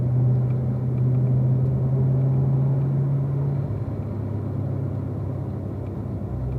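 Steady car engine on a race track warm-up lap, a loud close rumble holding a constant tone before easing slightly, with no talk over it.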